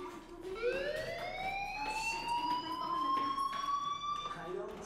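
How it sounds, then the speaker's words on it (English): A school fire alarm in the Life is Strange video game wails steadily with a rising, sustained electronic tone, loud and continuous throughout amid background game noise. "Do you hear that fire alarm? That means you should be outside."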